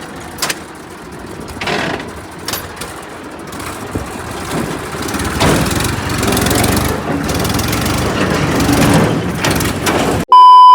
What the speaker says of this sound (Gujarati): આપણા ભાઈબંધને ટ્રેક્ટર ચાલુ કરી દીધું. ટ્રેક્ટર શું લોડર